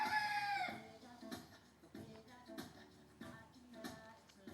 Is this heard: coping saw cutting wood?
no